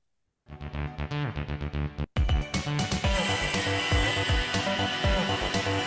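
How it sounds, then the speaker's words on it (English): A robot deburring and deflashing a die with a grinding wheel: a run of short rapid contact bursts, then a brief gap and continuous loud, harsh grinding with shifting tones. "You see, this is using a grinding wheel"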